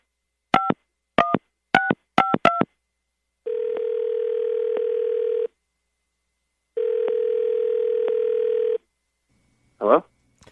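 A telephone dials a number in five quick bursts of touch tones, followed by two long steady ringback tones with a pause between them, loud and clear with no voices over them.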